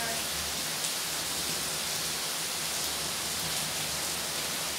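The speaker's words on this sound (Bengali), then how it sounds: "এটা আবার ফুটবে।" A pot of tea with ginger and half a bay leaf boils steadily, a dense, even hiss and bubble that fills the whole stretch without pause.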